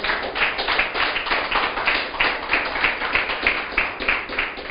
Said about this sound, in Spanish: Aplauda al Señor, aplauda al Señor.